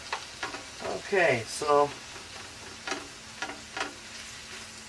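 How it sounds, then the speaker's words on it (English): Vegetables dropped into hot oil for shrimp fried rice noodles sizzle and crackle steadily, with a few stirring clatters and a short spoken remark over the frying. "after I let the oil warm up a little bit, I'm going to go ahead and add my vegetables"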